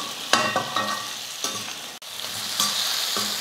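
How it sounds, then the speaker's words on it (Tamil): Cut vegetable pieces are sautéed in hot oil, giving a close, steady sizzle punctuated by several sharp stirring and scraping strikes of a spoon against the pan. There is no talking. "நல்லா ஒரு நிமிஷத்துக்கு இந்த எண்ணெயில் வந்து நல்லா வதக்கிக்கலாம்."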